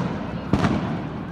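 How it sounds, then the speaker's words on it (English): Fireworks going off outdoors near a hotel in Hawaii during grad week: a single sharp burst cracks out over steady crowd and street noise, moderately distant. "the fireworks are starting going off right now"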